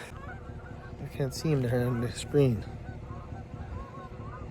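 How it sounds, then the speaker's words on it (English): Several geese honk loudly at close range near shrimp-fishing grounds, a burst of calls in quick succession, with someone talking over the birds before and after. "there's a lot of geese there"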